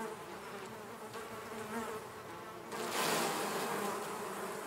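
A fly buzzes steadily close by, its drone growing louder and denser after about three seconds, with no talking over it.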